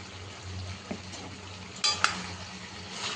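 Chicken masala with turmeric and chilli powder is stirred in a pan over a soft background sizzle. Two sharp scraping clatters of a spoon against metal stand out midway.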